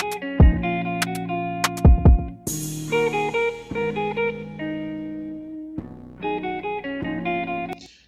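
A regular hip-hop beat plays back in BandLab with punchy deep kicks, a bright tonal melody and a short pause before it resumes, loud and close with no voice over it.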